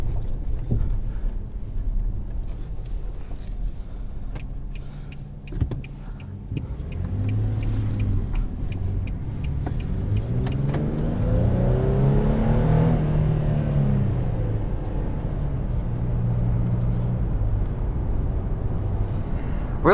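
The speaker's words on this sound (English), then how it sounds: "Sounds great, as I've grown accustomed to decent V6 sounds in a world of 4 cylinders" A 2020 Nissan Frontier pickup's 3.8-litre V6 revs up and accelerates, its low growl rising and sweeping in pitch, heard steadily from inside over constant road and cabin rumble.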